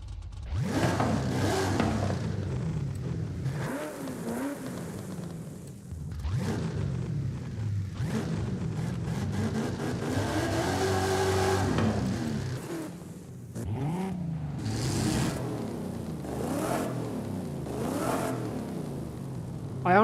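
A supercharged 8.9-liter V8 in a GMC Jimmy in Forza Horizon 5 revs loud and close. The engine climbs and drops repeatedly through gear changes, with a gritty, throaty roar that sustains between shifts.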